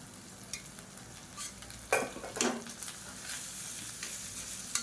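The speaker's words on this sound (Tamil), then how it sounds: "அதை நல்லா மீடியமான ஃப்ளேமில் பரட்டி விட்டுக்கலாம்." A spatula stirs and tosses cooked plain rice with egg in a pan over medium flame, a soft steady sizzle broken by a few scraping strokes, with no talk.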